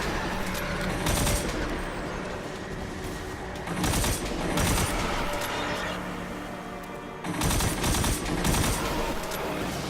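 Burst-fire pistol shots ring out in the video game Destiny 2, loud close volleys of rapid rounds in several clusters over a constant droning background.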